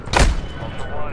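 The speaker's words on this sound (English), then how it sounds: "I'm airstriking." An airstrike in Call of Duty DMZ hits as a single loud, booming blast that bursts suddenly and then rumbles away over about a second.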